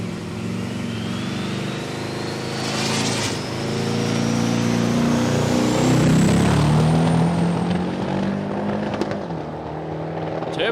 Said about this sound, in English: Turbocharged something in that car